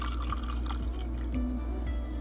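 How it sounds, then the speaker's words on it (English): Homemade organic hot chocolate being poured and dripped into cups, with repeated liquid drips and splashes over a low steady hum, close and moderately loud. "Okay, so let's start putting it in our cups."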